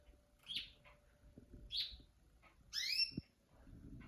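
A pet bird gives several bright chirps close by, spaced about a second apart, ending in a louder multi-note trill over a quiet room.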